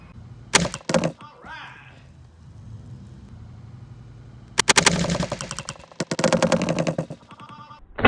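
Air gun firing ink paint cartridges at a canvas: a short rapid burst of loud shots, then a pause, then two longer rattling volleys close by, with a brief voice in between.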